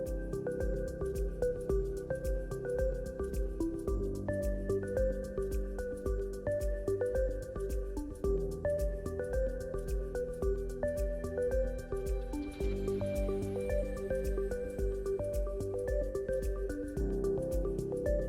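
Orbeez water beads and glass beads are dropped into a glass candle holder, making faint, soft clicks and wet plops over a quiet background with a steady tonal hum.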